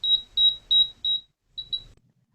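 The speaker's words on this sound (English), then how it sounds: "So you hear those beeps?" High-pitched electronic beeps sound from a rocketry altimeter: four evenly spaced tones, a short pause, then two more quick beeps before silence.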